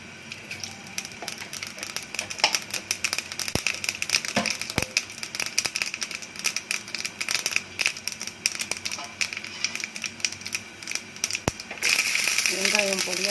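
Mustard seeds crackle and pop in hot oil with a dried red chilli while tempering a pachadi, a busy stream of sharp sizzling crackles with occasional louder snaps, fairly close, without talk.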